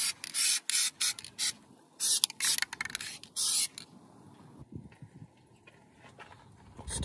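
Oil spray bursts onto the pickup chain of a baler, a series of short, sharp hissing squirts close by, followed by quieter mechanical ticks and clicks from the chain.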